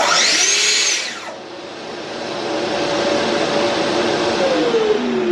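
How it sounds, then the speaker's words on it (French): A Festool TS-55 track saw whines up loudly for about a second, then drops away while a wireless auto-starting shop vacuum keeps running with a steady, close roar. "quand je coupe, l'aspirateur décolle tout seul"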